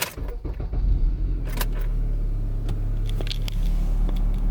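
A car engine cranks and catches, then settles into a steady low idle that runs continuously, with a few faint clicks and rattles on top and no talking.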